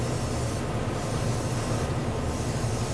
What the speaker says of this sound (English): I get to spray over an entire kit. And I just want a light misting of it